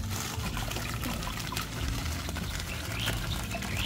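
KISS Plus nutrient is poured into about 10 liters of water, making a steady, close trickling and splashing that runs without a break.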